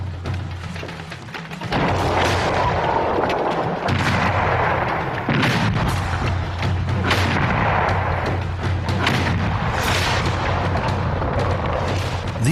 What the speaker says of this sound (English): they had to bombard Vienna with smaller cannon